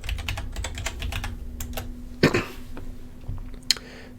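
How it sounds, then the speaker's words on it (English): Rapid clicking keystrokes on a computer keyboard while a web search is typed, a steady run of close taps with a brief cough-like burst partway through. "I wonder if I can actually type that out"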